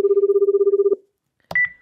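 A telephone call is placed in a Minecraft game, with a steady pulsing dial tone for about a second, then silence, then a short electronic beep. The sounds are clean and close.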